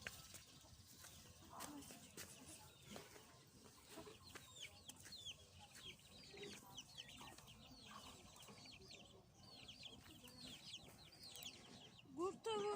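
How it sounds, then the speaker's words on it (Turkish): Chickens cluck and chicks peep steadily, many soft calls overlapping at close range, with a few louder squawks near the end. "yeni civcivlerimiz de çıktı"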